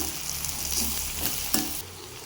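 Spices, including cumin powder, sizzle in hot oil in a pan while onion chutney is cooked, a close, steady crackle with a couple of sharper pops and a quieter tail.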